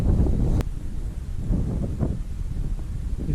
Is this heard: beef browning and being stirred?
no